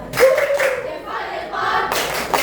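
A school class performs a short group clapping routine, with a few sharp claps and thumps among voices calling out in unison, brief and fairly close.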